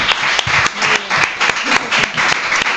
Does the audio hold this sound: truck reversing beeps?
no